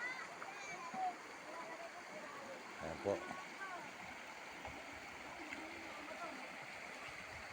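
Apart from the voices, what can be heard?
flowing stream in Daraitan, Tanay, Rizal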